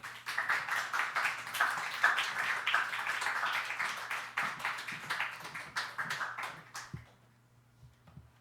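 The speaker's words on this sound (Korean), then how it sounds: "우리 전사님 앞으로 나오실 때 여러분 격려의 박수 쳐주시면 감사하겠습니다." Church congregation at a Sunday service clapping in encouragement, a steady, lively round of applause for about seven seconds that stops abruptly, leaving quiet room tone with a faint hum.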